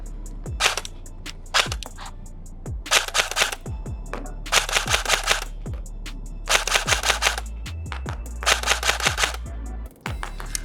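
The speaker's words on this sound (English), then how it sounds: "let's give it a test fire" An E&C retro airsoft gun with a longer barrel, run on a LiPo battery, fires 0.28 gram BBs outdoors in several sharp automatic bursts, each a rapid rattling string of shots separated by short pauses.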